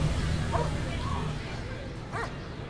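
Dogs play in an outdoor park, giving a few short barks and yips at a moderate distance over a steady background hum and faint crowd murmur.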